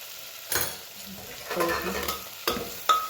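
Spices like coriander-cumin powder and chili being stirred into frying cluster (guvar) beans, with a spoon scraping the pan in short bursts over a soft, steady sizzle.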